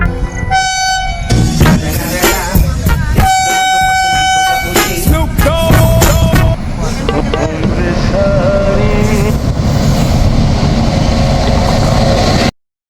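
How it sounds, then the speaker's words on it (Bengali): A train passes close by with a loud, continuous rumble and clatter of wagons, punctuated by repeated horn blasts early on, the roar holding steady until it cuts off abruptly. "ট্রেন তো চলে গেল"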